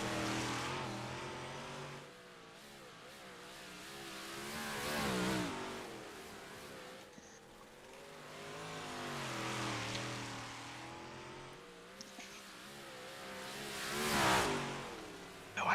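A race car at the Oswego track, the fast 25M machine, roars faintly at a distance. The engine rises and falls in long waves as it circles, with revving swells, and one pass near the end is louder.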